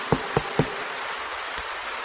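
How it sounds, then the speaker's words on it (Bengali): Heavy rain created as an audio drama effect, a steady broadband hiss, with three sharp knocks early on and fainter taps later. "বৃষ্টিটা এতক্ষণে আরো জোরে ঝাঁপিয়ে এসেছে"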